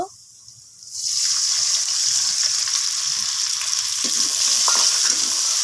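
Brown spice paste with raisins hits hot oil in a pan and sets off a loud, sustained sizzle after a short quiet start, with a few stirring scrapes partway through.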